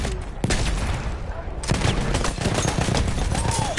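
Close, loud automatic gunfire crackles in sustained bursts during a conquest match in a first-person shooter, with sharp individual shots rising over the steady rattle.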